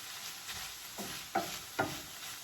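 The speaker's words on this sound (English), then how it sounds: "So I got the onions in. See how they starting to cook already?" Onions cooking in a pan give a faint steady sizzle, broken by a few soft stirring taps and scrapes close by.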